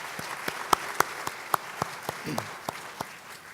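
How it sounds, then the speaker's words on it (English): Sparse clapping at a college-wide meeting, individual claps spaced out and fairly distinct over a thin crowd murmur, with a brief voice partway through. "that deserves a big round of applause"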